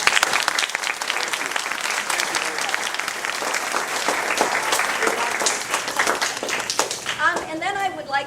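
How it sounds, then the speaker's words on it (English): An audience at a math game show event breaks into loud, sustained applause and clapping that fills the room, with a voice speaking briefly near the end. "So please give a big round of applause."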